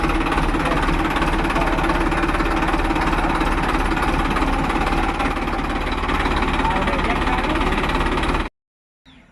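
A stuck tractor's engine labors in a muddy farm field, a loud, close, continuous knocking rumble with steady vibration that cuts off abruptly near the end.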